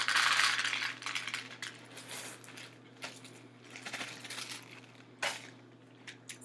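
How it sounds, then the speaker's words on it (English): Dry beans poured into a small Tupperware container, heard as a faint, scattered rattling of hard little pieces with uneven bursts of clicks and a brief louder clatter near the end. "we're going to put some beans in there too and see if we like that sound"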